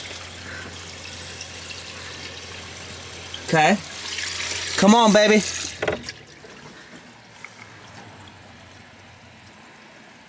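Cold water runs from a tap in a converted school bus, a soft steady flow under short bursts of nearby speech, with the faint hum of a pump.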